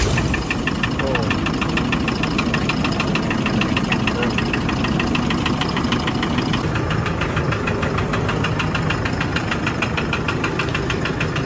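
A Hyundai EX8 truck engine runs at idle with a harsh, rapid metallic knocking ticking through a loud, steady mechanical drone, close and constant throughout.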